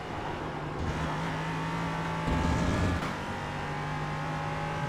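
An LMP3 prototype race car engine in iRacing at Atlanta holds a steady, droning high-revving note with a brief surge of louder revs, close and continuous.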